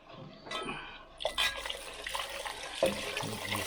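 Broth splashes and gurgles as it is poured into a pot of German onion soup, a short, close liquid rush lasting a few seconds with small clinks mixed in.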